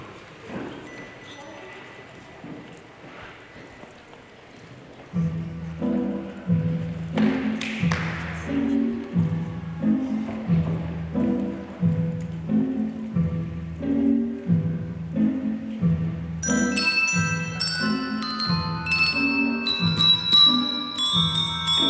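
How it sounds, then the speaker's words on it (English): Handbells play Dance of the Sugar Plum Fairy from the Nutcracker as an instrumental piece, steady low repeated tones joined later by bright high chiming notes, no singing. "There's no singing on this one, we're only playing the bells. This is the Dance of the Sugar Plum Fairy."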